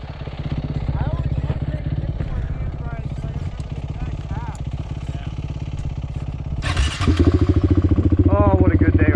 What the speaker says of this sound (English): All right, we got the stalled bike started.